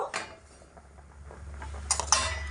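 A metal spoon knocks against a pot while checking boiled cauliflower, making a couple of quick, bright clinks near the end after a soft clatter, close and fairly quiet over a low background hum.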